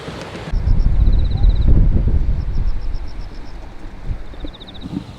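Strong wind buffets the microphone outdoors on Jeju Island, a loud continuous low rumble with gusts, and faint high bird chirps repeat in the background.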